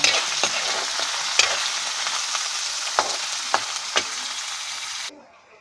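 Beef pieces fry with onions in a hot pan, giving a steady broadband sizzle with a few sharp pops and stirring clicks, close and fairly loud, cutting off abruptly near the end.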